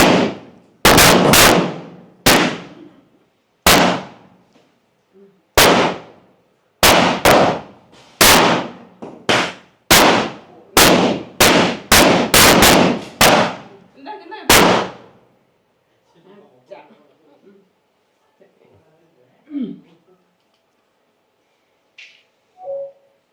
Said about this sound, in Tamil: வெடி